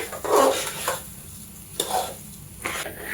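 Rice frying in a pan for mutton biryani, stirred in a few scraping bursts over a steady sizzle, close and fairly loud.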